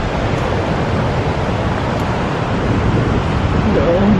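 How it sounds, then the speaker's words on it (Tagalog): Strong ocean waves roll in at Coolangatta Beach near a rock pool: a loud, continuous broadband roar of surf mixed with wind rumble that stays close and steady, with no breaks. "Kitang-kita dito yung magandang alon. Sobrang lakas ng alon."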